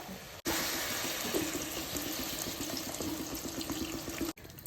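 Water pours steadily into a pot of mutton dabba curry, a continuous close splashing stream lasting about four seconds that starts and stops abruptly, quiet and with no talking.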